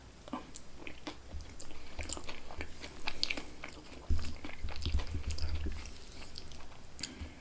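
Close-up chewing of a taco tater tot casserole, with wet mouth sounds, soft crunches and bites coming in uneven bursts, quiet and near, with no talking.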